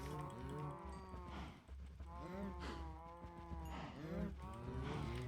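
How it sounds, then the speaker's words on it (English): Several cows in a video game moo loudly and repeatedly, their long overlapping lowing calls rising and falling close by, with a faint voice underneath. "Come here, cows."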